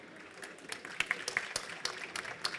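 Audience at a hotel industry panel applauding, with scattered, fairly faint claps rising slightly in density over a couple of seconds.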